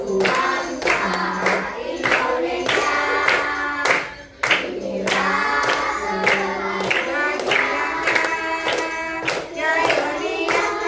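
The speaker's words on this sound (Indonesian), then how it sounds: "Ayo tepuk yang semangat dong." A class of fifth-grade children claps in rhythm to a song in an Indonesian primary school lesson on ethnic groups. Steady repeated claps run under singing and music, with a teacher's voice speaking between verses.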